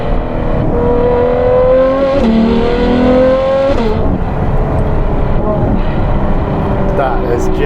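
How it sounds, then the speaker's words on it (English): A Novitec Ferrari 812 N-Largo S V12 sings loudly from the cabin, its induction and exhaust blending in rising and falling engine tones through gear changes, with a voice talking over it. "A dance between induction and exhaust noise."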